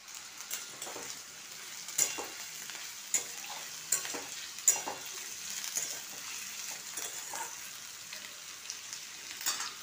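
Thinly sliced ivy gourd fries in hot oil in a pan, a steady bright sizzle broken by sharp clinks and scrapes of a spatula stirring at close range, with no talking.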